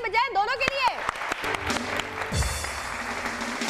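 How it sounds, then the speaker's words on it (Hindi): On the stage show Satrangi, an audience breaks into applause for two performers. A voice is heard at the start, then a burst of clapping follows and continues at moderate volume to the end. "तो बहुत सारी तालियां बजाएं दोनों के लिए"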